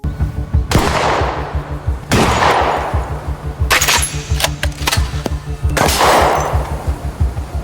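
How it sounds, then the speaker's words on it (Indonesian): Rapid bursts of gunfire at a shooting practice, with several loud stretches of fast repeated shots broken by short pauses and sharp single cracks, close and dominant throughout. "Keesokan harinya, Jang mengajak Miho latihan menembak untuk menghilangkan stres."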